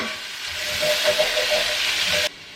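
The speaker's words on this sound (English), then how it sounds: "add that to the pan with that olive oil and saute all those for just a couple minutes" Onions sautéing in olive oil in a pan give a steady, close sizzle and hiss with light stirring clicks, cutting off abruptly near the end.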